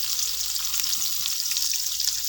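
Chopped onion and green chili hiss and crackle in hot oil in a wok, a close, steady bright sizzle with no talking.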